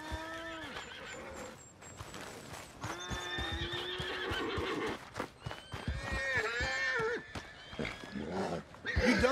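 A horse in Red Dead Redemption 2 gives several loud whinnies and snorts, with scattered hoof clops between the calls, close and clear.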